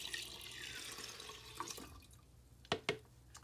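Water pours into a Frankford Arsenal stainless steel tumbler drum, a steady faint splashing rush that tapers off, followed by a couple of sharp drips and clinks.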